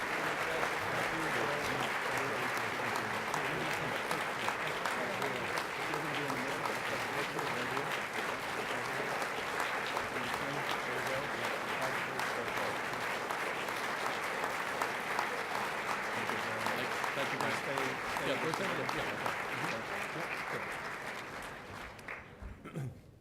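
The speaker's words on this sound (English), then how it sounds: "let's give another round warm of applause to Representative Michael Castle" Sustained, dense applause fills a large room at an awards banquet, steady and loud for over twenty seconds before tapering off at the end.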